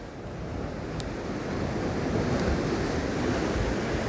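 Winter sea waves break against a harbour breakwater in Yangyang, a loud, continuous wash of surf with wind buffeting the microphone and swelling slightly midway.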